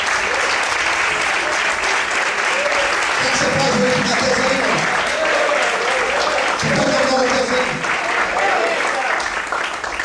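A congregation applauds loudly and continuously, dense clapping filling the space while voices speak beneath it.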